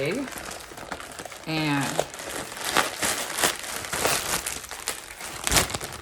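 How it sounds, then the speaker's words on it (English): Small pink plastic bag holding a straight 18-inch headband wig being crinkled and handled close by, rustling steadily throughout while a voice speaks briefly near the start. "It just came in this little pink little plastic bag."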